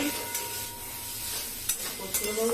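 Vegetable stems being stirred in a pan, a continuous close sizzle with a few soft scraping strokes over a brief stretch.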